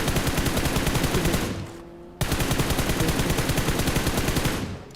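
Rapid automatic gunfire in the mobile game BGMI rattles in a loud, dense burst, breaks off briefly, then resumes just as fast and steady.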